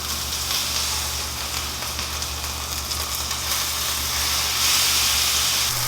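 Fish frying in a pan just after being flipped, a loud continuous hiss and sizzle with a steamy, spitting texture that swells slightly toward the end, close up and with no voices.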